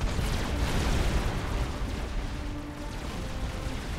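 A large explosion in the real-time strategy game Supreme Commander: Forged Alliance, heard as a steady, loud, rumbling roar of blasts and debris that stays dense and low for several seconds without speech.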